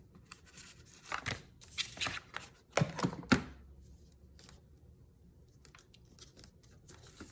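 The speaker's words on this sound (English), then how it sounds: "Sticky scissors." Several crisp snips and rustles of 6x6 paper being cut with scissors come in irregular bursts, close and quiet, then give way to faint scattered rustling.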